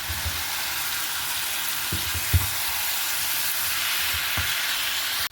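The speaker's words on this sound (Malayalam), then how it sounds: "അതുപോലെ 2 ബേ ലീഫ് ഇതേപോലെ കീറി അതിനകത്തേക്ക് ആഡ് ചെയ്യാണ്. ഒന്ന് ഇളക്കി യോജിപ്പിച്ചെടുക്കാം." Biryani masala with bay leaves sizzles steadily in a pan, a broad continuous frying hiss with a few soft stirring knocks scattered through, ending abruptly; no one speaks.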